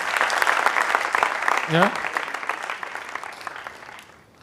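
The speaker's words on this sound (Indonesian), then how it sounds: "Tepuk tangan yang kencang untuk Anda." Church congregation applauding loudly and steadily through the whole stretch, a dense wash of clapping with a short spoken word from a man rising briefly above it, then tapering off at the end.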